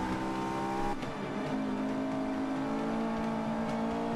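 Race car engine in the video game Forza 5, a loud steady roar with a brief shift in pitch early on, then a strong sustained tone as it keeps accelerating, with no talking over it.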